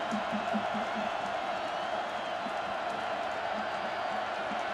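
Football stadium crowd at a Sam Houston Bearkats vs North Dakota State Bison game, a steady loud roar of cheering filling the whole stretch, with faint whoops and possible commentary underneath.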